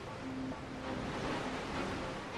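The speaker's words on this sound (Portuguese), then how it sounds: "uma parede gigantesca de água que se forma quando marés muito altas na baía forçam o caminho invadindo a estreita foz do rio" The Qiantang River tidal bore surges into Hangzhou Bay as a broad, steady roar of rushing water and surf, distant and continuous, with some wind noise.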